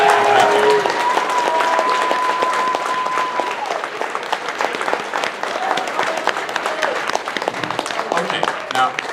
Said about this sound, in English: I do appreciate the applause.